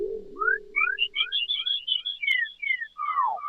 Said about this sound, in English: how to do windowed sync synthesis in Renoise